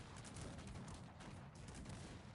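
Cannon and artillery volleys from a battle in the strategy game Cossacks 3, a dense, continuous barrage of booming shots and crackling gunfire layered together.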